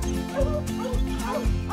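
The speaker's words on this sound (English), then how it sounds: "They hit the track, so they just opened up and started to bark." Hunting dogs on a bobcat track, several barking and yipping in quick overlapping bursts, moderately close, with a continuous chorus of baying.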